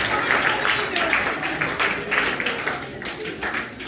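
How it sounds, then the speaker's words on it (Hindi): An audience at a school Math Day celebration claps loudly, a dense wash of applause that holds steady for several seconds and fades slightly toward the end. "जोरदार ताली के लिए"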